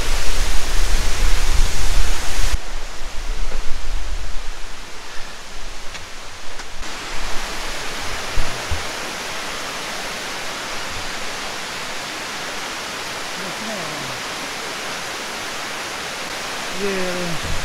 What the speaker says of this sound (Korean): 복내 폭포 전망대입니다.